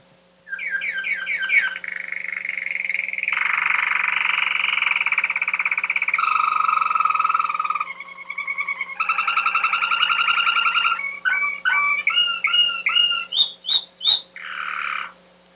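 Recorded bird song, a loud, close, rapid series of varied syllables: buzzy trills, harsh notes and quick repeated chirps that run continuously, then break into short separate bursts.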